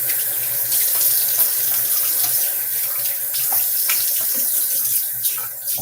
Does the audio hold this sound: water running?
yes